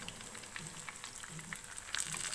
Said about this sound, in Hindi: मीडियम टू लो फ्लेम पे हम इसको शैलो फ्राई करेंगे।